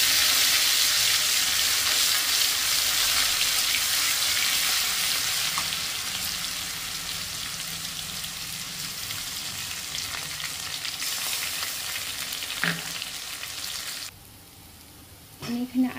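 Black mustard seeds and poppy seed paste frying in hot oil in a home kitchen, a continuous loud sizzle that settles to a softer crackle, with a brief stir and then a quieter stretch near the end.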